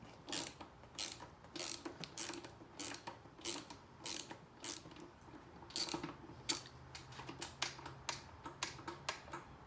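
A ratchet working loose the acorn nut on the speedometer of a Harley-Davidson Softail Slim FLS motorcycle, a quiet, close run of regular clicking strokes without speech.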